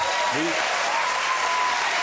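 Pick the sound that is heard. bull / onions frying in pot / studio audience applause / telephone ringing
studio audience applause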